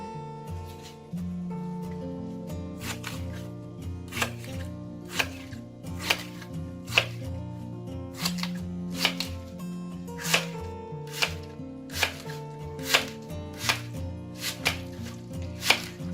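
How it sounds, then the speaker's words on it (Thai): A knife chops vegetable stalks into pieces steadily and rhythmically on a board, sharp regular cuts repeating over continuous background music, with no one speaking. "เวลาหั่นหน้าอุดก็ใช้วิธีการ หั่นเป็นท่อนค่ะ"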